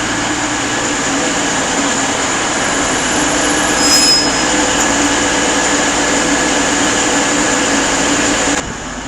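An East Midlands Railway Class 222 diesel unit departing Derby for London St Pancras, a loud sustained engine drone and rumble with wheel squeal and a brief high tone, continuous throughout before easing slightly at the end.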